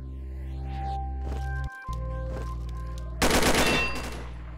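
Gunfire in the Combat Arms video game shooting through a wall: a steady hum carries most of the stretch, then a loud, close burst of rapid automatic fire erupts near the end.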